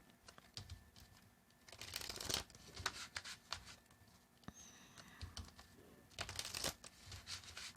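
Tarot cards are shuffled in quick riffling bursts at close range, with soft slaps and pauses between shuffles and no speech.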